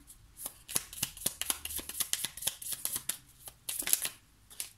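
Tarot cards shuffled by hand in quick crisp riffles and slaps, a dense run of close, snappy flicks with brief pauses, fairly quiet and alone without speech.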